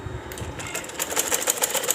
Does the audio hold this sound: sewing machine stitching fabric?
yes